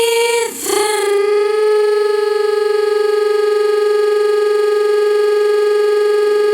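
A sung vocal note through a granulizer effect set to 0.5 catches in a brief glitchy stutter, then freezes into a steady, buzzy sustained drone that holds unchanged to the end.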